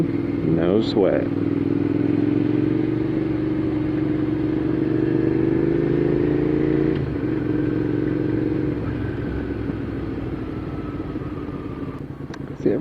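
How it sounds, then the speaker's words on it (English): A small motorcycle engine drones steadily at cruising speed in January, with a low rumble and slight pitch shifts, close and continuous. "Pretty hardy little motorcycle."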